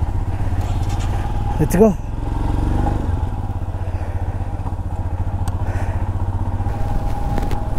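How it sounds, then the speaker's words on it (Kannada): A motorcycle engine drones steadily on a high-altitude Ladakh road at about 14,000 feet, loud and continuous under the rider's brief talk, with a passing bike's rising whine near the middle. "ಎಷ್ಟೊಂದು ಬೈಕ್ಗಳು ರಿಟರ್ನ್ ಬರ್ತಾ ಇದೆ"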